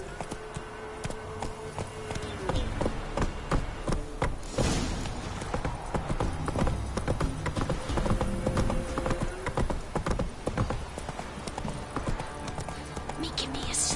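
Horse galloping in the fantasy role-playing game The Witcher 3, with a continuous, close, rhythmic clip-clop of hooves and a short whinny, with voices talking over the hoofbeats.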